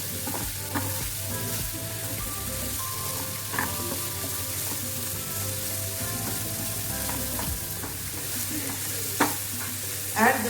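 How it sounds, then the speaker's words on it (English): Spring onions sauté in butter with shrimp in a hot pan, a steady close sizzle with occasional stirring scrapes and clinks throughout. "Now add the white part of spring onions and saute for another few seconds."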